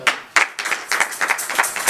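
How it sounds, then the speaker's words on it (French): Loud, close applause breaks out in uneven waves at a church service, a group clapping with a few sharp individual claps standing out. "On applaudit le Seigneur pour cela."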